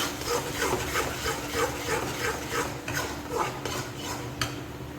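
A spoon stirs spices, including coriander powder, into fish curry in a pot, giving a steady rhythmic scraping and rubbing against the metal, moderately close and without talk.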